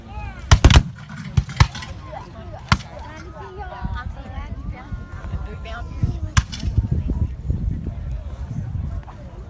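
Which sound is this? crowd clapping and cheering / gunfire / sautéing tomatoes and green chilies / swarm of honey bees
gunfire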